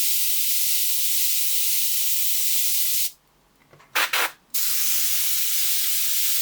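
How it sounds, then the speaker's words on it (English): An airbrush blows a continuous, close, steady airy hiss over miniature paint, cutting off abruptly midway, giving two short bursts, then resuming its even stream. "we're just going to use some air from the airbrush to help dry that off"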